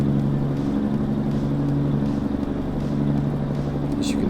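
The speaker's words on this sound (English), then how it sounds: "As you can hear, I threw on the engine brake just to control the speed." A Kenworth W900 truck with a 525-horsepower Cummins engine hauls a heavy load downhill in American Truck Simulator with its engine brake on, giving a steady, loud, droning rumble that holds without a break.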